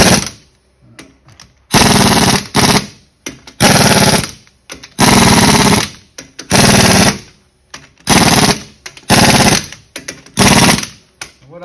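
An impact wrench drives a socket onto car lug nuts in about seven loud, close rattling bursts, each lasting under a second and separated by short silences.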